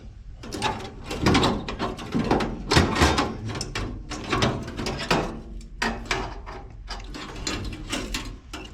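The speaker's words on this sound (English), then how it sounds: "this is a, I think it's 7/16 and 3/8 flare nut wrench" A 7/16 and 3/8 flare nut wrench works a fitting in a cramped Rheem furnace, giving repeated close metallic ratcheting clicks and clatters in uneven bursts.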